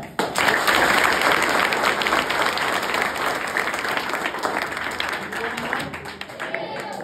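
Steady, dense applause from a seated audience at a talk for students and parents, loud and continuous for several seconds before tapering slightly.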